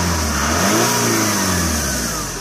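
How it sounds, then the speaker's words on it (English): Saab 9-5 Vector turbo engine revving close up, a loud sustained rise and fall in pitch with steady engine drone and no voices. "The engine sounds nice."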